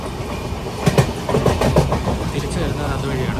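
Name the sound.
Guruvayur–Chennai Express train passing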